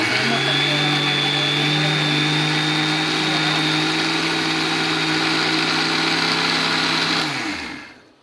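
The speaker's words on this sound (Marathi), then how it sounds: "मी एकदा मिक्सरमध्ये" A mixer grinder grinding dried dates and sugar for laddus whirs loudly and steadily with a high mechanical whine, running continuously for about seven seconds before winding down.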